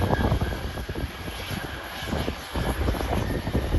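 A Piper general aviation propeller plane approaches Burlington International Airport in Vermont, its engine a steady distant drone under broadband airport ambience, without talking.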